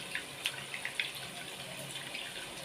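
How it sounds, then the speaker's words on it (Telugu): Water is poured over tamarind in a bowl, a soft close trickle and splash with a few brief sharp spatters, faint and steady with no voices. "ఇప్పుడు చింతపండులో ఇంకొంచెం నీళ్ళు పోసుకొని చింతపండులో ఉండే రసం అంతా తీసుకోవాలి."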